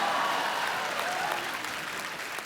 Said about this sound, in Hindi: मेरे कुर्ते के लिए जोरदार तालियां।